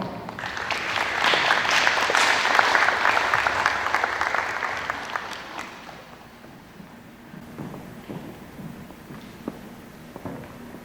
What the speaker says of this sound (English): Ladies and gentlemen, let's welcome Gajul Gopta with a big applause.